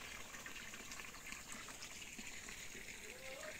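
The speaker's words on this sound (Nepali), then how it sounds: "हाम्रोमा चाहिँ यसरी धारा बगेको गर्छ त्यत्तिकै।" Water runs steadily from a village water spout in Ainselukharka, Khotang, Nepal, a continuous gushing stream heard alone throughout.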